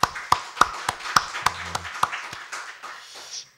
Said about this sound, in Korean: 다 같이 하나님께 영광의 박수를 한번 드리십시다